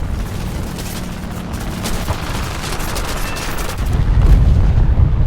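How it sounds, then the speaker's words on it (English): Bombs and gunfire crash around a Corsair fighter in War Thunder air combat, a dense rumbling barrage that swells into a heavier low boom near the end. "I hit the Corsair with my bombs."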